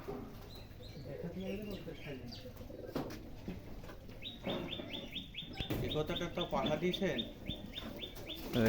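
Giribaz pigeons coo and chirp softly in a loft, with scattered calls and a higher twittering later on, under low, intermittent background voices.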